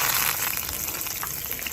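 Tomatoes and onions hit hot oil in a pan while cooking a camping breakfast outdoors, giving a steady, close, hissing sizzle that runs evenly throughout with no pauses.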